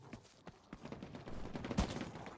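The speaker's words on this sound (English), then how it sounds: "shots from the right" Scattered gunshots in The Cycle: Frontier, a series of fairly faint, irregular cracks building toward one louder shot near the end, with no voices.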